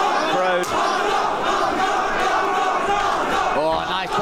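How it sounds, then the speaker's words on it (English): A very loud crowd roars at a Blackpool MMA event as two young bantamweights fight in the cage, a dense, sustained wall of cheering and yelling with shouts rising above it throughout. "this very, very loud Blackpool crowd"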